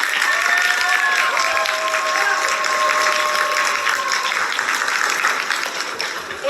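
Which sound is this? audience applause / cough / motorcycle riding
audience applause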